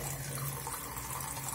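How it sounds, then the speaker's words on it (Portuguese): A paintbrush is rinsed under a running tap, with a steady, continuous rush of faucet water hissing into a sink throughout. "E aí eu vou colocando água limpa. E vou enxaguando."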